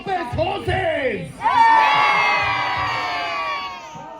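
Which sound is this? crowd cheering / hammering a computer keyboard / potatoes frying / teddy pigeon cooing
crowd cheering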